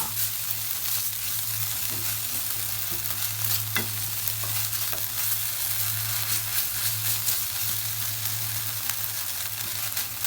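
Pork cooking with onion and garlic in a pan, a steady loud sizzle with stirring scrapes running throughout and no voices.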